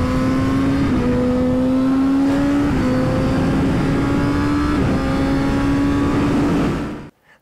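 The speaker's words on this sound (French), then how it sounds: "on attend de mettre la moto comme il faut et on accélère." A Kawasaki ZX10R superbike accelerates hard on a race track, its loud close engine climbing through several gear shifts in steady rising pulls before cutting off abruptly.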